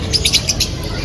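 A pet bird squawks and chirps in quick, repeated bursts over a steady, noisy indoor background.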